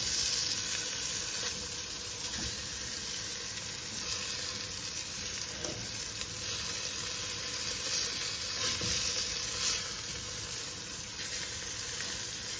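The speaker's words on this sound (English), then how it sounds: "They're getting a nice sear on them." Pork loin chops sear in a pan, a steady, close, continuous sizzle with faint scattered crackles throughout and no talking.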